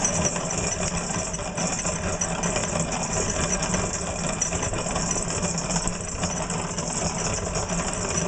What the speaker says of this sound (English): it takes about 20 minutes to completely grind 3 cups of flour using 2 separate grinds, a coarse grind and then a finer grind